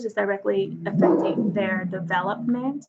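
A pet dog barks and yips in the background of an online lecture, its sounds partly masked by a speaker talking continuously over them.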